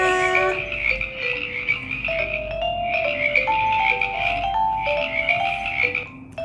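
A frog croaks repeatedly in clear, close, loud bursts over several seconds, with no voices present.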